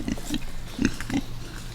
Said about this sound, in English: So here's our pigs.